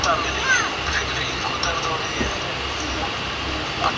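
Howrah-Jamalpur Super Express, hauled by a WAP-5 electric locomotive, pulls out of Bolpur Shantiniketan station with a steady broadband rumble and rolling noise throughout, plus a few faint higher tonal squeals.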